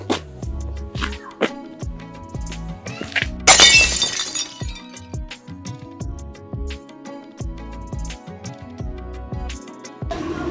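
A glass window shatters in one loud, bright crash with a scatter of tinkling shards, set against rhythmic music and thumping in the background.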